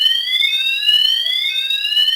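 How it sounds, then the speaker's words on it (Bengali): A car anti-theft alarm sounds a continuous high-pitched electronic tone, blaring steadily, loud and unbroken, with no voices. "অনবরত এই অ্যালার্মটা বাজতে থাকবে"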